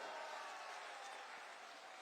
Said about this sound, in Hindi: जोर से ताली बजाओ जरा